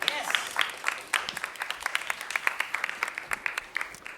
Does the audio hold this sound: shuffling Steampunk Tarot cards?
no